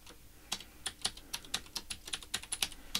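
Quick, uneven keystrokes clatter on a computer keyboard, a dozen or so crisp clicks in about three seconds, close and clear with no talking.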